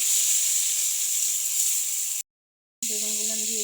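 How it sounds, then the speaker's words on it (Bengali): Eggplant slices frying in hot oil, a steady loud hiss and sizzle close by, broken by a brief silence before a voice and faint tones take over. "তেলে ভেজে নিব বেগুনগুলো"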